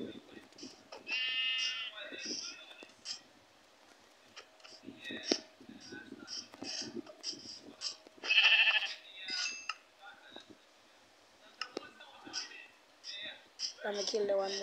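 Sheep in a video game bleat twice, as short, faint, distinct cries amid game clicks and ticking sounds. Voices talk quietly through the scene.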